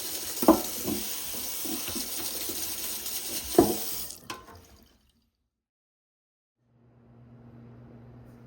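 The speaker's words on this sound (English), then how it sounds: "I'm going to scrub my carrot and scrub my celery." Tap water runs into a sink while a carrot and celery are scrubbed. It is a steady splashing stream with two brief knocks, then stops abruptly and leaves near silence with a faint low hum.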